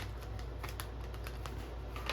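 Tarot cards are shuffled by hand in a quick run of soft, close riffling clicks over a low steady hum, with no talk.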